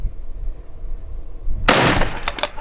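A single loud 8mm Mauser rifle shot cracks outdoors after a quiet moment, a sharp sudden blast with a short ringing tail.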